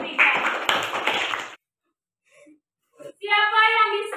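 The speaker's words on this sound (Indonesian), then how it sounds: "kasih tepuk tangan untuk kelompok 3" Classroom applause for a student group, a dense burst of clapping for about a second and a half that cuts off abruptly, followed after a pause by a voice speaking.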